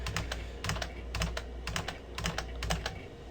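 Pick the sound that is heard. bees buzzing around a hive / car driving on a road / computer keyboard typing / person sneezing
computer keyboard typing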